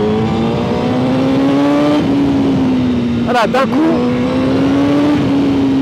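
A steady, loud 2020 Honda CBR1000RR-R Fireblade SP engine drone that climbs slightly in pitch as it revs past 6000 rpm, with someone talking briefly over it midway.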